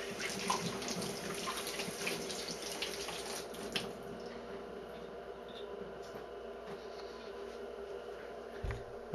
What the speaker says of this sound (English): I just rinsed the parts off in the sink since they're very hot from being in the parts bath.